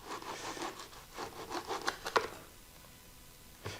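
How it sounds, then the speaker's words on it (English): Knife sawing through a loaf of French bread, several quiet rasping strokes with crumbly scratches and a crisp crunch near the middle, then a pause and one last soft rasp. "I'll cut about ½ an inch off and see if there's any moisture left in the center of this loaf"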